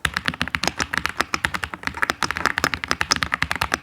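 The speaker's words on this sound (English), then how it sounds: "And if I type loudly" Rapid, loud typing on an Epomaker TH85 mechanical keyboard: a dense run of sharp, close keystroke clacks in quick uneven rhythm, with no talking.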